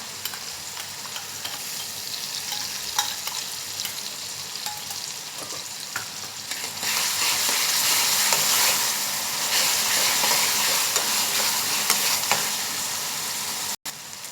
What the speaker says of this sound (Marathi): आता आपला हिरवं वाटण सुद्धा छान परतलं गेलेलं आहे